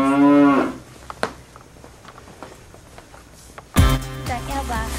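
A cow-shaped toy broom in a Target store gives a loud, drawn-out electronic moo lasting about a second. Quiet store ambience follows, then a second moo starts abruptly near the end and continues.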